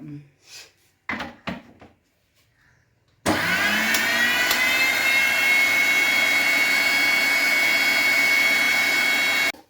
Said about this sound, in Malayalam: അടിക്കണം അല്ലേ പീറ്റ് ചെയ്യണം നന്നായിട്ട്